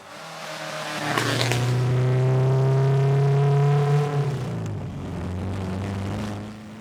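A loud MGB race car engine revs up and holds a strong, steady drone before easing off and settling to a lower idle, close by with no talk.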